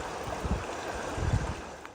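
Havasu Creek runs through a deep canyon, giving a steady, broad rush of flowing water with soft low splashes, moderately near and without voices.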